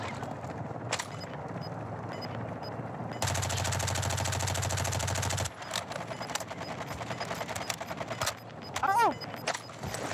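Submachine gun fire in a video game: a dense sustained burst of rapid shots lasting a couple of seconds, followed by scattered single shots and clatter with game effects and a brief rising tone near the end.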